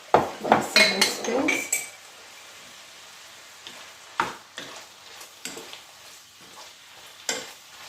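Long-handled metal spoons stirring in a pot, a burst of clinks and scrapes against the metal, then sparser single knocks and stirs over a soft background sizzle.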